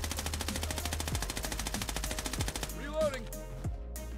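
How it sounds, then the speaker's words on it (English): M4 Venom rifle firing in the shooter game Bloodstrike, a fast, evenly spaced automatic stream of loud shots running for about three seconds, then stopping into brief mechanical handling sounds. "So this is me trying the M4 but actually controlling the recoil."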